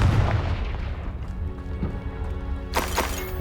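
A Confringo fire spell blasts off in Hogwarts Legacy, a sharp booming burst that rings out alone over a low, rumbling combat backdrop.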